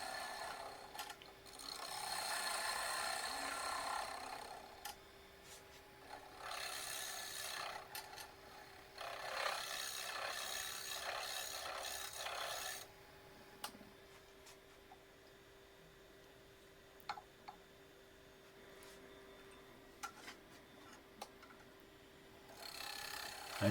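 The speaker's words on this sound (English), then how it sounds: "cleaning up the cut with shear scrapes" A shear scraper cleans up a cut on a wooden garlic keeper turning on a lathe, producing close, raspy scraping in several bursts of a few seconds each, then quieter stretches with scattered light ticks.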